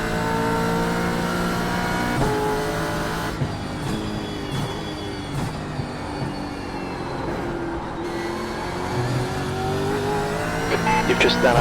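A Supercars race car engine drones in iRacing at Watkins Glen, its steady revving whine rising and falling through gear changes, with a commentator's voice talking over it.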